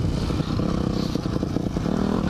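A motocross motorcycle engine idles and burbles nearby with rough, pulsing exhaust, loud and steady with some rattling mechanical clatter over the short stretch.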